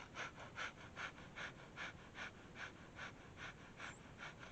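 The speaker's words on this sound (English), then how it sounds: "also begin breath of fire." Breath of fire in Kundalini yoga, rapid equal breaths pumped through the stomach, a steady train of about a dozen quick, soft, airy puffs in even rhythm, close but faint, with no talking.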